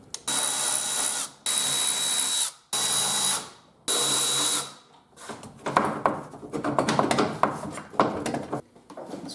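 A power tool spins fan shroud screws out of a Jeep Wrangler YJ: four loud, steady whirring bursts, each about a second long with short gaps between, then rapid close ratcheting and clattering metal handling.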